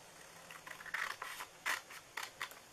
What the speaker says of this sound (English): So what I'm doing here is I'm just going to cut this by hand.